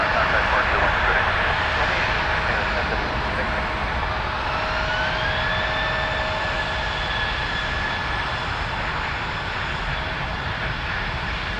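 Loud, steady roar of a jet airliner taking off at Toronto Pearson, with a rising engine whine building partway through and a constant wash of noise throughout.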